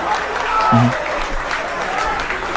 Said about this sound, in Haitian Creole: je vous demande de vous applaudir fortement, s'il vous plaît, pour cette présence ce soir